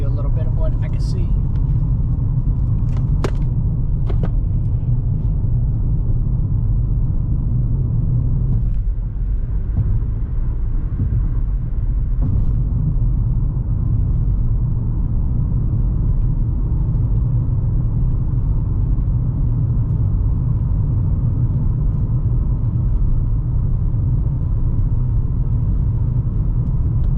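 A car rolls along the Ross Maxwell Scenic Drive in Big Bend National Park, a steady low engine and road rumble heard from inside, continuous and fairly loud with a few brief clicks early on.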